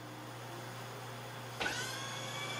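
A hyperdrive electric motor whirs up sharply as the voltage is cranked, a steady low hum jumping into a rising whine that then holds at a higher pitch, close and fairly quiet.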